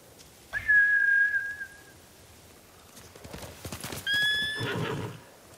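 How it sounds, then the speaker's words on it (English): Horses in Ghost of Tsushima, samurai mounts, neigh in two loud, close whinnies with a hoof clatter between them as they bolt. "Bastards scared off the horses."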